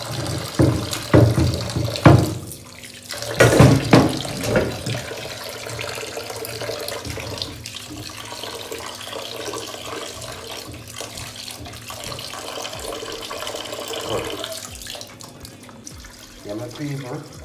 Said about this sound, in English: So, I'm gonna wash off the kidney another time.